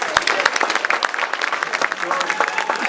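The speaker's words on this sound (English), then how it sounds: "So a big round of applause to Bill, the Chamber, Nancy, and Laura for this." A round of applause at an award presentation for a chamber of commerce honoree, steady dense clapping from an indoor audience that fills the whole stretch at even loudness.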